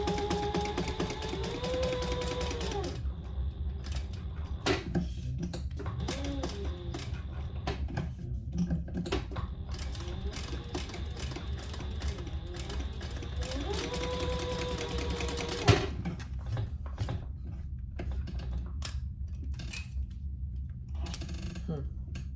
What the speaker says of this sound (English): And now we're going to stitch down each side.